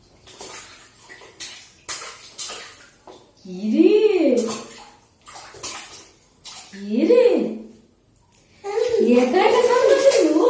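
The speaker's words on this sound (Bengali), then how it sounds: "একা একা স্নান করছে" A child splashes and plays alone in bathtub water, with bursts of splashing and sloshing between high-pitched childish vocal sounds and an adult voice nearby.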